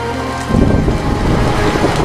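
Heavy rain pours down in a continuous, dense wash of noise that swells louder after the first half second and stays steady and close throughout, with no speech.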